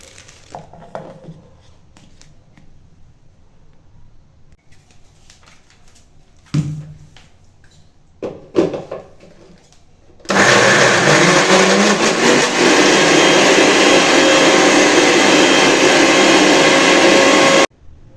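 An electric blender grinds boiled dried peas, running loud and steady for about seven seconds after a quiet stretch with a few brief clatters from the kitchen.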